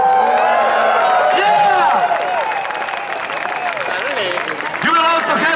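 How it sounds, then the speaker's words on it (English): Open-air arena crowd at a gladiator show in Pula, Istria, cheering, whooping and clapping loudly and steadily, with shouting voices over a continuous wash of applause. "I want you to cheer for him, I want you to be loud and to clap and to bring this arena down!"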